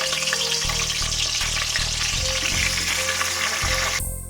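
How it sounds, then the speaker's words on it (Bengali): Cut cauliflower frying in leftover fish oil in a wok, a loud continuous sizzle with rhythmic scraping stirs, ending abruptly. "ফুলকপিগুলো প্রথমে ভেজে নেব মাছ রান্না করার জন্য"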